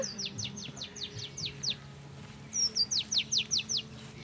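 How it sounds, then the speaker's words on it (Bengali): Birds chirp in quick repeated runs of sharp, high tweets in a village beside mustard fields, one series early and another brighter burst later, fairly close against quiet background hum. "নিশ্চয়ই পাখির আওয়াজ শুনতে পাচ্ছেন"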